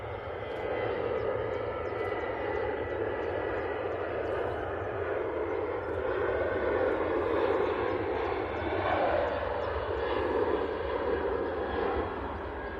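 Jet airliners, including Jet2, Ryanair and EasyJet planes, taxiing at an airport: a steady, continuous engine roar and whine at moderate distance, holding level for the whole stretch with no talk.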